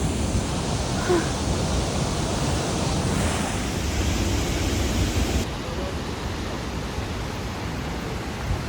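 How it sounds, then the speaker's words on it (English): A waterfall beside a hiking route in Norway gives a steady, loud broadband rush of falling water that fills the whole stretch without a break, with some wind noise on the microphone. "The hike bike next to a waterfall and there's no path."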